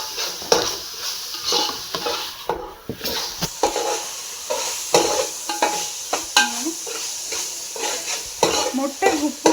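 Eggs fry in a hot pan with a steady crackling sizzle, overlaid by repeated scraping and stirring clicks of a utensil against the pan, close and continuous with no talking.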